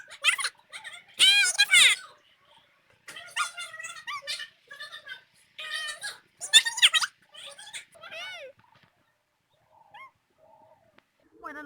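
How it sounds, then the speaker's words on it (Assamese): A litter of five puppies in Karbi Anglong gives repeated high, thin whimpers and squeaky cries in short bursts, close by, while a person talks softly. "দেখাম কুকুৰ পোৱালিকেইটা।"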